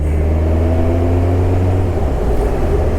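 A car engine drones loudly and steadily from inside the vehicle under light throttle, its deep hum shifting in pitch partway through as the car picks up speed.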